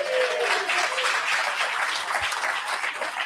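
An audience at a live birthday party event claps together in a dense, steady burst of applause, loud and continuous throughout with only faint voices mixed in.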